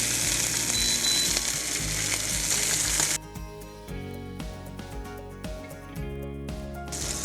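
Meat browns in a frying pan, a loud dense sizzle that drops suddenly to a quieter crackle partway through, then swells a little again near the end.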